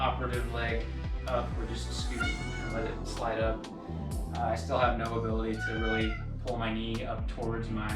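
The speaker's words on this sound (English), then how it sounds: "Apologies for the cat screams in the background." Cat yowling and meowing in the background, loud and repeated, while a person talks steadily over it.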